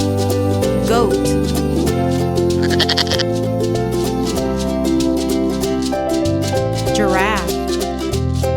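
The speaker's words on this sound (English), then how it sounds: "goat," Goat bleating repeatedly in wavering, nasal calls over a steady musical backing, with several bleats spaced across the clip at close range.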